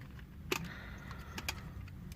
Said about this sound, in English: Straighten up the leg. Very nice clicky joints.